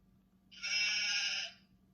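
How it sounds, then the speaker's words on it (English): A single sheep bleats once, a sustained wavering bleat lasting about a second, close and clear against a quiet background. "And that one was a sheep."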